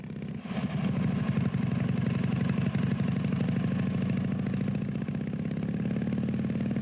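A motorcycle engine idles steadily close by, a continuous mid-pitched throbbing drone that holds an even level throughout with no voices.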